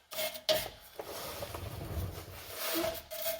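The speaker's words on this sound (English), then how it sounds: "Gonna scrape the threads down a little with a wire brush." On a 2005 Pontiac GTO, a wire brush scrapes the exhaust threads during a muffler delete. There are short, rough rasping strokes, close and moderately quiet, repeated over a few seconds.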